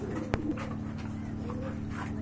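Pigeons coo in a loft at Kashimpur, Gazipur, with low, steady throaty murmuring filling the background and one brief sharp knock standing out early on.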